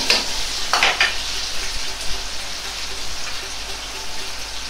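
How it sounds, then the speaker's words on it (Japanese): Doubanjiang chili bean paste fries in hot oil with ginger, giving a steady, close crackling sizzle with a couple of brighter bursts of spattering early on. "豆板醤を小さじ1入れ、油で溶くようにして炒めます"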